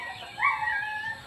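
An Aseel chicken gives a brief, close call among a flock of large fowl, a single short vocal rising over faint background noise.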